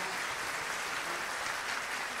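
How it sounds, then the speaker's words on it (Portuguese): Applause for Eloá Dias, a former actress and model, at an event: a steady, even wash of many hands clapping, fairly faint and distant, with no voices over it. "eu queria uma salva de palmas para minha querida Eloá Dias"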